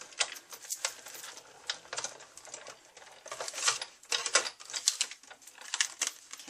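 A die-cutting machine cuts card stock with Framelits dies, giving a close, busy run of rapid clicking and clattering ticks that speed up and slow in uneven bursts.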